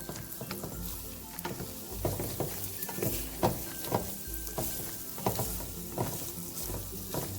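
Corned beef hash from a can fries in a pan with a steady broadband sizzle, broken by repeated scraping and stirring strokes of a utensil against the pan, close and moderately loud with no talking.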